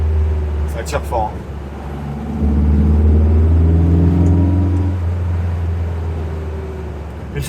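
A 1962 VW Beetle convertible with a 1835cc performance engine pulls away, its deep air-cooled rumble swelling as it accelerates and holding loud before easing slightly, with a brief voice near the start.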